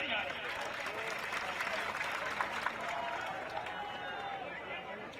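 At a Patidar jail-bharo protest rally in Mehsana, a large crowd breaks into sustained clapping that gradually eases off, with a voice briefly audible over it.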